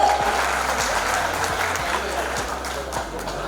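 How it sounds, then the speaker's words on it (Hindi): Clapping from an audience at an official public event honouring women, a steady wash of applause at moderate level with faint low thumps running beneath it. "एक बार हमारी महिला शक्ति के लिए जोरदार तालियां तो कम से कम बजा दो"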